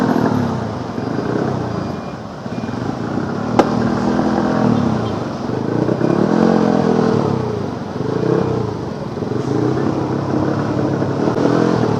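A motorcycle engine hums and rumbles steadily during an evening ride on the road from Jakarta to Bekasi, loud and close, with wind noise, faint traffic around it and a single sharp click partway through.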